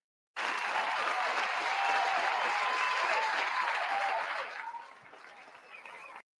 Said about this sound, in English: Does she deserve an applause?